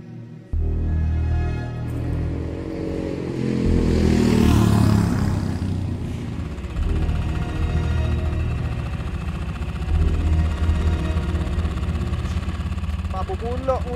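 A motorcycle engine runs rough and uneven on a long ride home, sputtering and clattering loudly and close before it gives out, with a dip in level midway.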